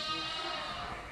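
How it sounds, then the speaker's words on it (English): Sheep bleating on a farm, one sustained nasal baa close and loud, filling the moment alone. "They have a really distinct baa,"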